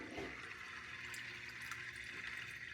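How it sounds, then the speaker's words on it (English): Pump pushing water out during an aquarium water change, a steady rushing, gurgling flow heard faintly and continuously with small splashy pops. "once you have enough water inside, it will start pumping water out"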